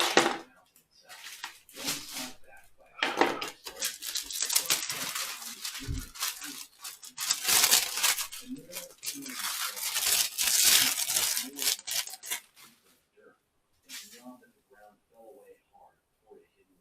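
A cured scratch-built rigger part unwrapped by hand, with bursts of tearing and crinkling wrap from about 3 to 12 seconds, loud and close, with brief talk and quieter handling near the end.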